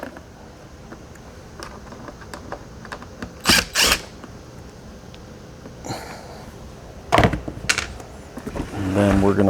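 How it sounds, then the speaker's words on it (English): Screws being unscrewed from the bottom of a Pro Team Super-coach Pro vacuum: faint creaking and ratcheting turns, a few louder scraping bursts of the screwdriver, with a voice talking beneath. "we are gonna unscrew the bottom of the vacuum."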